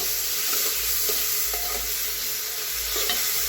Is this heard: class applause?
no